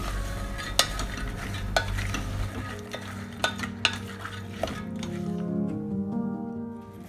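Soaked chickpeas added to a cooking pot and stirred, with sharp clicks of a spoon against the pot over a soft sizzle, then a quieter wet stirring as the contents settle.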